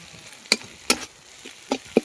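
Spices with salt and turmeric are stirred in hot oil for a koi fish curry, giving a few sharp, brief scrapes of a spoon against the pan over a faint background sizzle, close and spaced irregularly.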